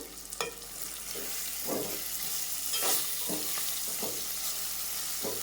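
Upma seasoning frying in a pan, a continuous close sizzle broken by repeated scraping strokes of a spoon stirring the mixture.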